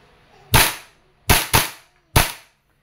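A gun fires four sharp, loud single shots in semi-automatic mode, the first alone, then two close together and a fourth after a short pause, each with a quick decaying tail.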